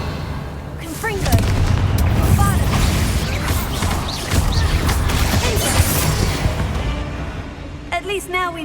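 A Confringo fire spell explodes with a deep, booming blast inside a tomb in the Hogwarts Legacy video game, followed by a loud, dense rumble of crashing debris and effects that slowly dies away.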